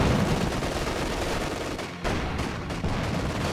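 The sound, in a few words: machine gun firing in Company of Heroes 2 video game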